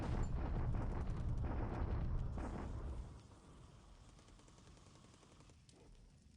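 Dense, rumbling gunfire and explosions from a bombardment at Bataan in the strategy game War in the Pacific roll heavily for about three seconds, then fade to scattered, distant thuds.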